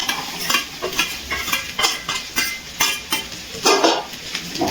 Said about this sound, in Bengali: এবার খুব ভালো করে সব কিছু নাড়াচাড়া করে মিশিয়ে নিচ্ছি